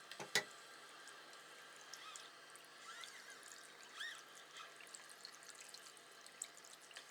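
Water runs from a kitchen faucet as a faint, steady trickle and splash, with a brief louder clink near the start and soft drips scattered over the quiet, continuous flow.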